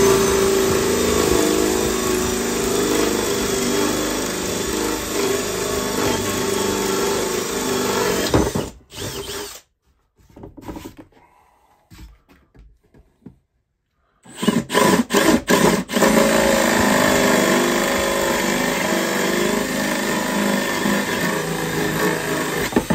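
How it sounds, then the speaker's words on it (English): A loud power drill whirs steadily while boring a hole in a wooden range box for shotguns, stops briefly for a few seconds, then starts up again and keeps drilling. "I'm going to drill a hole."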